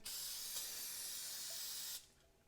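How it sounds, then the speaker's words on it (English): A steady aerosol spray of brake cleaner on a Mazda MX-5 Miata NA 1.6L during an oil and filter change hisses loudly for about two seconds, then cuts off abruptly, leaving a quiet background. "We're going to spray it with some brake cleaner"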